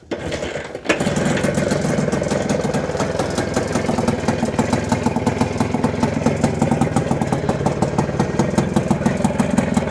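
A motorcycle engine with a new spark plug fires up after a brief silence, then runs at a steady, close, loud idle with a rapid even beat that continues to the end.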